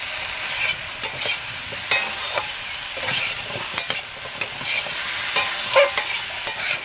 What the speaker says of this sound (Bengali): সামান্য একটু জল দিলাম, দিয়ে কষাচ্ছি যাতে মশলাটা পুড়ে না যায়